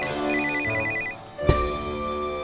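Telephone ring tone heard while a call is placed from a home, a steady repeating electronic ringback pattern over a low indoor background hum, followed by a sharp click as the line connects.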